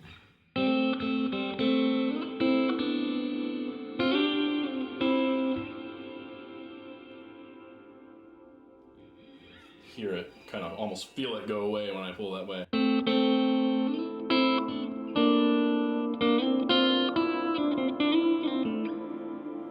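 Electric guitar played through a reverb pedal as its tone control is turned up, sustained chords ringing with a washy tail, fading to a thinner stretch midway before strumming resumes, with someone talking over parts of it.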